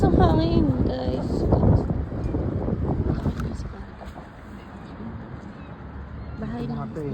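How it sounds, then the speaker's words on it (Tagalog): Strong, cold wind buffets the microphone outdoors as a dull broadband rumble. People talk over it, louder at first and then fading back. "Ang lamig. Shit, ang lakas ng hangin, guys."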